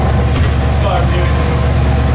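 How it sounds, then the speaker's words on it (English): A 447 cubic inch twin turbo LS engine with a stock cam runs loud and close, a dense, steady low rumble with a throbbing, uneven idle. "For a motor with a stock cam, that thing sounds insane."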